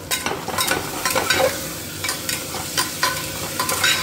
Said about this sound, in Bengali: এবার এর মধ্যে চিকেনটা দিয়ে দেবো